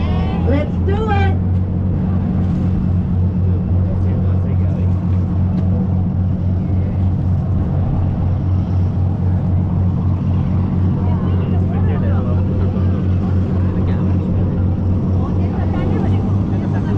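An amphibious duck tour vehicle on the Gold Coast heads into the water. Its engine gives a loud, steady low drone throughout, with voices talking over it.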